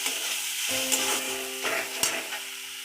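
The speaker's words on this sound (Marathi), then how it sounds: "कांदा भाजण्यासाठी थोडंसं मीठ घालायचं म्हणजे कांदा पटकन परतला जातो" Chopped onion sautéing with a pinch of salt in a pan, a steady close sizzle with stirring scrapes and a couple of sharper clinks, for a potato paratha filling.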